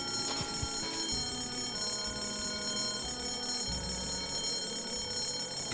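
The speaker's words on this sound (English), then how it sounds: "I do need to pull the fire alarm to look in the chest" A fire alarm bell rings steadily in Escape from Monkey Island, a continuous bright metallic clanging held at an even level throughout, with low game sounds underneath and no talk.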